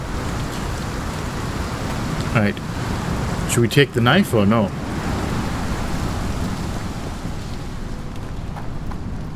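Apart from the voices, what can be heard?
rain in a video game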